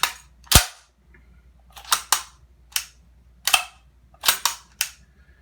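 FTF M10/45 submachine gun bolt assembly test-fired in semi-auto, giving eight sharp single shots in uneven groups of one to three, loud and close with no talk.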